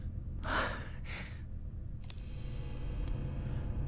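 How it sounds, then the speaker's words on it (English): Heavy breathing from a person waking in darkness, trapped in a narrow space: two long breathy exhalations, then quieter breaths with a few faint clicks, close and alone over a low hum. "Heavy breathing."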